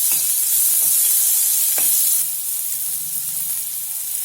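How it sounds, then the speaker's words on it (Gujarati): Chopped onions sautéing in a pan for a sweet corn and pea bhel, giving a steady soft sizzle and hiss with a few light stirring scrapes, close and alone without speech. "હવે આપણે એમાં ડુંગળી નાખશું. ડુંગળીને આપણે કાચી પાકી સાંતળશું."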